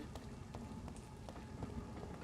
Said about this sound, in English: The sound I'm pouring rain and distant thunder is doing something in my brain.